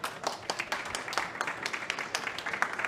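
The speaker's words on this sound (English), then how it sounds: "Another round of applause for all of them" Applause for panel speakers at a forest legal partnership event, a scattered moderate crowd clapping steadily with distinct individual claps throughout, fairly faint and distant.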